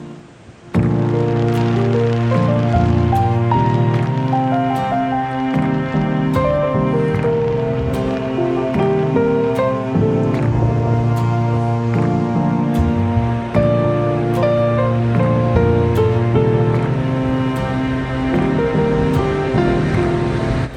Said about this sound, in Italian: i numerosi gabbiani, e le onde che si infrangono sugli scogli, fanno da colonna sonora